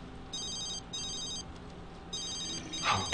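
A telephone rings in The Sims 3, repeating electronic trills in regular bursts over quiet background game sounds, followed by a short louder noise at the end.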